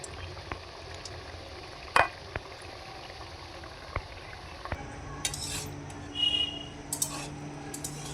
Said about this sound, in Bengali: বাকি বিস্কুটগুলোকে উল্টে পাল্টে ভেজে নিচ্ছি।